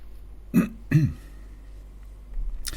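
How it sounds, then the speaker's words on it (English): A person clears their throat twice in quick succession, close and fairly loud, followed by quiet room tone. "Sorry, I keep clearing my throat."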